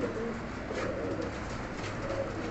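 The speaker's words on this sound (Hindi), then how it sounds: "ये सामने सियालकोटी बटेरा कबूतर है, इसके साथ मोतियों वाली मादी है" Sialkoti pigeons coo softly in a loft, low repeated throaty calls over a steady background hum, fairly close and without any talking.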